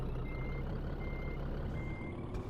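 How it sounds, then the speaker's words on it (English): Truck reversing beeps in Scania Truck Driving Simulator, a steady repeating electronic tone pulsing at an even rhythm over a low, constant diesel engine rumble, fairly quiet and with no talking. "It looks like I need to reverse the truck."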